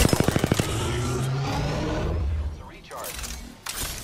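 Gunfire in the video game Apex Legends opens with a rapid burst of close, loud shots, then gives way to mechanical whirring and scattered game effects.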